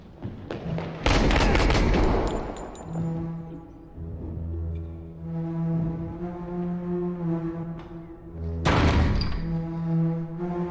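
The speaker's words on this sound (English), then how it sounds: "the way he like loses control when firing the pistol is so" Pistol shots ring out in police body cam footage as two sharp, loud bursts several seconds apart. Each shot cuts through sustained droning tones and background noise.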